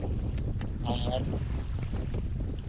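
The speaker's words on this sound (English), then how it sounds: "the wind forecast is now force 4, and it's certainly gusting a little bit stronger" Strong, gusting coastal wind buffets the microphone on an exposed stretch of the Anglesey shore in force 4 conditions, a loud continuous roar with brief faint sounds rising through it.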